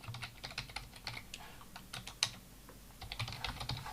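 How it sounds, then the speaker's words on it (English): Typing a URL on a computer keyboard: a close, steady run of quick plastic key clicks with brief pauses and one sharper keystroke partway through, alone with no talking. "let's type it in"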